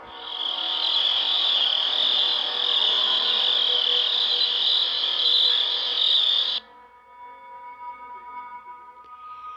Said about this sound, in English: catches nothing but crickets chirping under a night sky